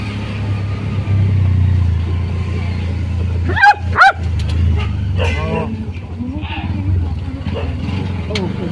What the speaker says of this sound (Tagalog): bulabog tuloy yung mga aso